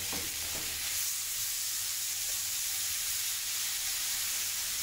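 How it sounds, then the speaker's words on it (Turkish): Meat sizzles in a hot pan with a constant hiss and faint popping, close and steady throughout, no one speaking. "Tavamızda etimizi pişirirken hiç sulanmıyor."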